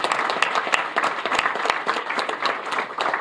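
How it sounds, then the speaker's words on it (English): Audience applause at an indoor press briefing, a dense patter of many hands clapping steadily and fairly close for a few seconds, with no voices over it. "Let's give her another round of applause."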